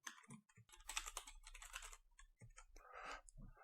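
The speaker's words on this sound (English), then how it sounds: "To create a new course, type in the course number and course name." Someone types a course number and course name into class setup software on a computer keyboard, with fast, faint clicking keystrokes in irregular bursts and a low hum underneath.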